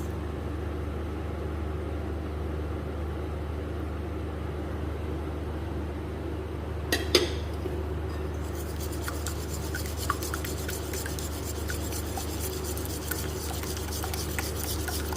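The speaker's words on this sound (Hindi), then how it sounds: "ये अच्छे से हम इसको मिक्स करेंगे।" Eggs being mixed into cookie dough in a bowl for double chocolate chunk cookies, with soft rubbing and scraping strokes that turn into rapid clicking taps over a steady low hum.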